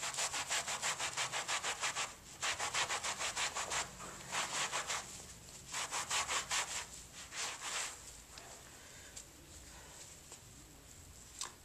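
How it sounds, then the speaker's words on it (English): A brush scrubs a cotton rug soaked with detergent to lift a ketchup food spill, making rapid back-and-forth rasping strokes in rhythmic bursts that continue close up for several seconds, with short pauses between bursts. "as I scrub."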